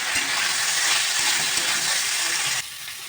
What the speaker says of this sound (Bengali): আদাটা দিয়ে ভালো করে কষিয়ে নেব